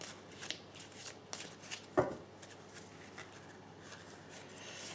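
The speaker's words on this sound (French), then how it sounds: "je vais tirer encore 2 cartes." Tarot cards shuffled and drawn during a reading, soft papery riffles and slides close by at low volume, with one sharper snap partway through.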